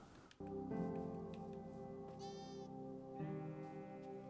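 Sheep in Minecraft give several clear, wavering bleats up close, one after another over a steady harmonic game background, with no talk.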